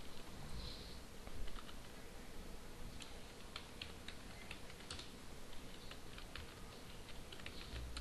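Quiet keystrokes on a computer keyboard as a search query is typed, a few clustered bursts of clicks over steady low room noise, with no voices.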